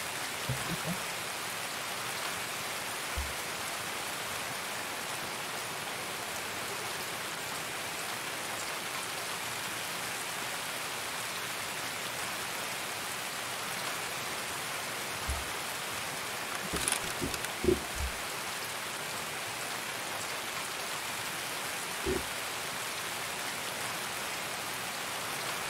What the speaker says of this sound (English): Is there a rain event going on?